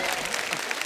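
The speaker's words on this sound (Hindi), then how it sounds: "एक बार फिर से जोरदार तालियां हो जाएं" Dense, loud applause from a studio audience on Kapil's comedy show stage fills the whole moment.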